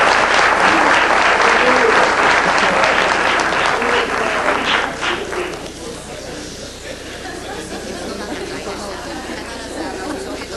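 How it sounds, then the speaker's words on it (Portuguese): An audience at a business management lecture applauds loudly, dense clapping that thins out after a few seconds into scattered claps and murmuring chatter. "Uma salva de palmas"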